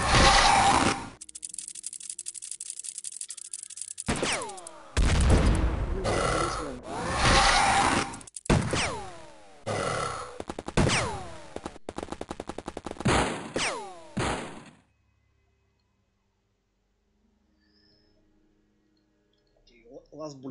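Reaction-fire gunshots in the video game Open X-Com: X Files, several loud bursts of rapid automatic fire and single shots separated by short pauses with ringing tails, ending in near silence.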